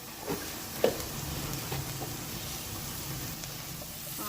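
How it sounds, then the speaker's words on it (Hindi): Okra (bhindi) frying in oil with turmeric and green chilies, a steady soft sizzle and hiss with a couple of brief clinks, moderately close and alone. "अभी हम फ्राई करेंगे।"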